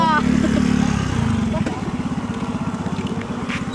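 A motorcycle engine runs close by, a low steady rumble that settles into an even pulsing idle, with people talking over it.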